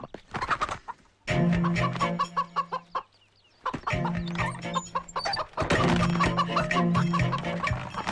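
Chickens cluck and squawk loudly in repeated bursts, close by, with brief quiet gaps between the flurries of agitated fowl calls.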